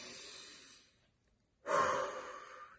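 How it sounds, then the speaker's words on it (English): A deep breath drawn in slowly through the nose or mouth, close and soft: a long exhale tapers into about half a second of silence, then a fuller, louder inhale rises and holds, alone without speech. "They need lots of oxygen, which we get from breathing in nice and deep"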